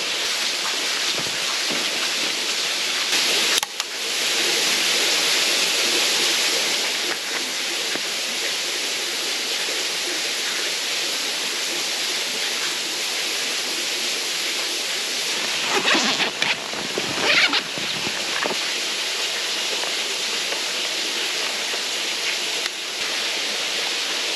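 A waterfall in the woods pours as a steady, dense rushing roar that stays loud and close throughout, with brief dips and faint bumps of handling noise.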